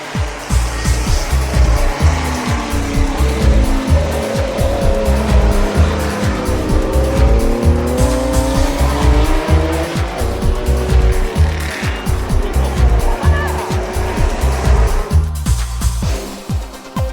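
Older Japanese performance cars at a historic race meeting at Tsukuba circuit, engines roaring continuously with rapid gear-change pulses and tire squeal, loud and close as cars pass and accelerate.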